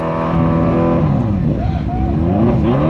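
A drag racing vehicle accelerates hard down the strip at a Straightliners drift and drag event, its loud, close engine note climbing steadily in pitch through rising harmonics, with a second engine sweep joining midway.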